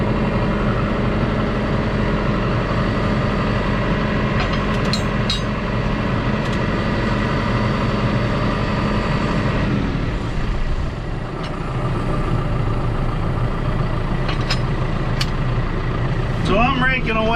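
Tractor engine running steadily while raking hay in a field, a loud continuous diesel drone with a slight dip partway through and faint clanks near the end.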